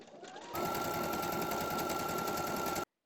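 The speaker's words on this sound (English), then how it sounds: "I'm going to start stitching" A sewing machine stitches a quilt block, starting up after a soft lead-in and then running at an even, rapid whir close by before stopping abruptly.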